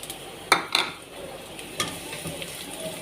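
Garlic hits a pan and fries with a soft steady sizzle, broken by a few sharp clinks of a utensil against the pan, close and fairly quiet.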